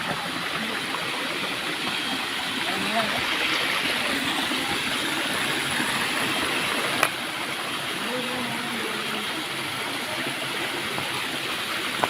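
Khoiyachara waterfall stream in a forested trail setting flowing with a steady, broad rushing wash of water, continuous and fairly close, with a faint insect drone and a brief sharp click partway through.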